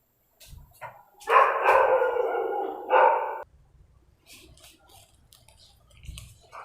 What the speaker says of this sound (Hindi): अभी दोस्तों कुत्ता भौंक रहा था इसलिए मैंने वीडियो को पॉज कर दिया था